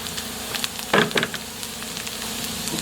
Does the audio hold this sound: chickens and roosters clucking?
no